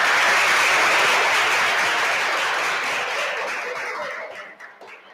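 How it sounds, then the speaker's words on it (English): Audience applause at a junior public speaking competition final, a dense wash of many hands clapping that holds steady and then gradually thins and fades out. "don't forget to clap hands because it's just polite to do so"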